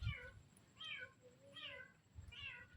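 A cat meowing four times in a slow, evenly spaced sequence, each call rising and falling, quiet and slightly distant against a low background rumble.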